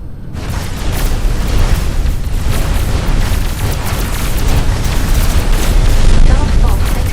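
A massive, sustained roaring explosion fills a space-factory video game as an enemy Dark Fog base core is destroyed, a loud, continuous rumble holding steady for several seconds.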